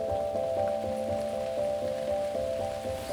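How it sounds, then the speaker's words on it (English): Steady rain falls on wet outdoor surfaces, a soft continuous patter alongside a persistent tonal hum and faint rhythmic ticking, with no voices. "everything is wet from the rain"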